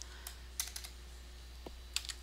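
Values are typed on a computer keyboard, a sparse run of light, quiet key clicks in a near-silent room.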